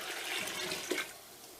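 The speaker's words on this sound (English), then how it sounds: "we're going to start off with 8 cups of water." Eight cups of water poured into a cooking pot for New Year's Day turnip greens, a brief steady splashing gush, fairly close and alone.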